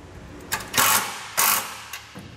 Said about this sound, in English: restart our nut, and then tighten it back down